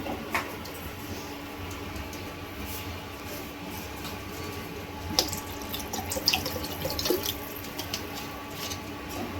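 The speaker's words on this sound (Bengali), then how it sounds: "আর একটু জল দেবো আমি।" Water streams steadily into a simmering kofta curry gravy in a home kitchen, a constant hiss and trickle with a few brief clinks near the end. It sounds quiet and close, with no talk.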